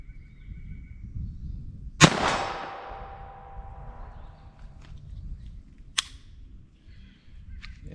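A single sharp .22 Long Rifle shot cracks with a ringing decay, followed several seconds later by a fainter metallic click or clank at an outdoor range.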